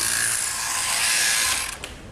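Electric sheep shearing handpiece cutting through wool on a sheep's leg: a close, continuous high buzzing rattle that stays steady, then tapers off near the end.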